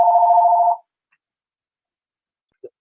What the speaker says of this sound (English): It's a new office phone,